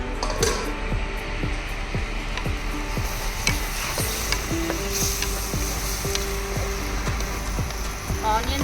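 Onions frying in a pan for egg butter masala, stirred with a utensil in a steady run of regular scrapes over a constant close sizzle, with no talking.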